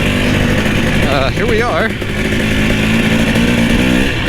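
A KTM TX300i two-stroke dirt bike engine runs steadily at close range, its buzzing drone rising briefly in a quick rev, while someone speaks over it.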